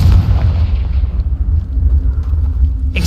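A Confringo spell in Hogwarts Legacy bursts with a loud, deep explosion that rolls into a rumbling low decay, close and alone, ending with a brief sharp crack.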